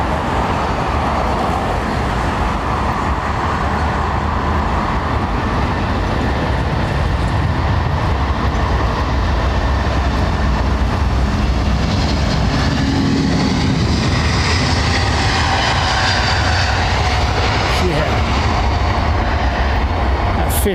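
A Finnair Airbus A350 takes off at London Heathrow, a loud continuous roar of jet engines with a broad rushing rumble that holds steady and then slowly shifts.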